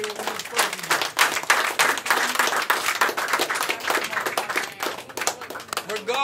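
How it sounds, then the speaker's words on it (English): A crowd at a basement rap battle event claps their hands in a dense, lively burst of applause, while a voice talks loudly over it. "So can everybody from Virginia and the people not from Virginia clap their hands?"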